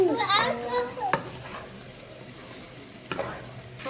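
Turnips roasting in a pan with garlic and black pepper give off a steady low sizzle, with two sharp utensil clatters; a voice talks briefly at the start.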